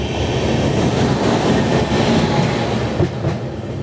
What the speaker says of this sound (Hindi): हमारी ट्रेन ओवरटेक मार रही है।